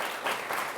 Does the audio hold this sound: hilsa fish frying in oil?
no